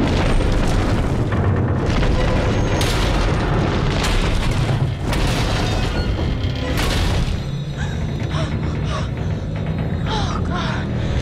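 Wreckage collapsing in the video game Until Dawn: loud, dense rumbling booms and crashes roll continuously, with bursts of debris noise swelling and easing, heard without speech.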